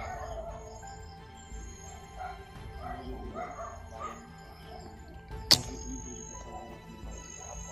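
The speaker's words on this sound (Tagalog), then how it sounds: "Parang may aso dito sa amin." Faint dog barks and yips come from a distance, scattered over background noise, with one sharp loud knock partway through.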